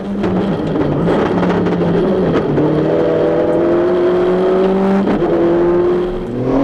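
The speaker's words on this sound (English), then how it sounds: "over 90 miles an hour as the anti-lag explosions burn off the excess gas in the BioClear car" Rally car at over 90 mph on a stage at Lurgan Park, its engine screaming loudly and close with rising revs, punctuated by sharp anti-lag bangs and pops as excess fuel burns off.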